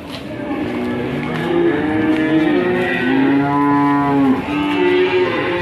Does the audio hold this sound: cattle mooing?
yes